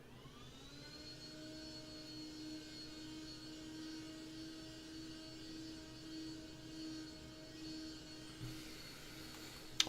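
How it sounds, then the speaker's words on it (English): A vacuum cleaner runs steadily in the background for the whole stretch, a constant droning whine with a sustained tonal hum, with no speech over it and a brief knock right at the end. "Hopefully that vacuum isn't too loud for you guys."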